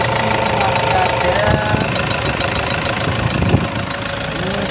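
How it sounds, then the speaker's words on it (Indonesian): Diesel engine of a 2014 Toyota Innova V automatic idling, a steady low rumble running throughout with someone talking over it and a few light knocks near the end. "Mesinnya juga relatif masih renyah, teman-teman. Masih renyah, suaranya juga masih renyah banget."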